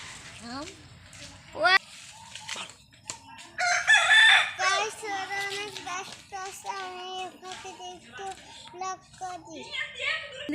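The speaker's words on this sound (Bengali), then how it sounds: "মুরগি" A rooster crows loudly and chickens cluck close by in a rural village yard on a cold day, with children's voices chattering throughout.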